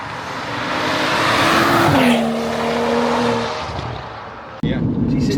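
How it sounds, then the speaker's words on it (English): BMW 135i with a 570 bhp tune, XHP software and a Stage 3 gearbox pulling hard, the engine note climbing and dipping through rapid gear changes before cutting off sharply near the end, loud and close from inside the moving car. "It changes gears so quick."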